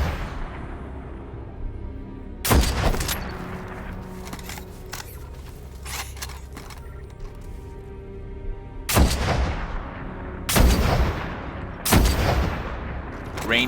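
Sharp, loud sniper rifle shots from an exotic weapon in Destiny: The Taken King, one at about three seconds and a rapid cluster of three near the end. Each crack is followed by a short ringing tail over a low ambient rumble.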